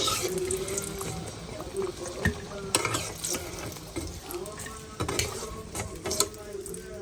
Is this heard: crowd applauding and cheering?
no